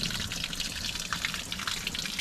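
Coolant flushing out of the radiator of a 2006 Ram 1500 with a 4.7L engine, a steady close trickle and splatter of liquid with small irregular drips throughout.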